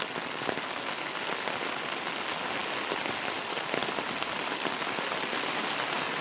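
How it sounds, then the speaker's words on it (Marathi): Heavy monsoon rain pours down in the Konkan countryside by flooded fields, a dense unbroken roar of drops hammering surfaces close by, steady and loud throughout with no voices. "आणि पाऊस अजून जोरात पडतोय."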